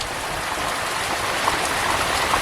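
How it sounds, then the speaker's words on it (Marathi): Heavy rain falls steadily on a village, a dense, even hiss of drops that continues without pause and with no voices. "बाहेर बघताय जोरदार पाऊस आला हा बघा दिवसभर पाऊस असाच आहे जोरदार आहे"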